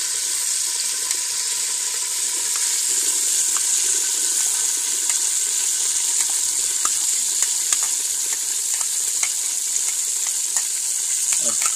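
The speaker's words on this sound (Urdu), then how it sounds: "اور اب ڈالیں گے پیاز, گھی ہمارا بالکل گرم ہو گیا" Sliced onions sizzle in hot ghee in a pan as karahi is cooked, a bright, steady frying hiss with small pops and crackles scattered throughout, close and continuous with no talking.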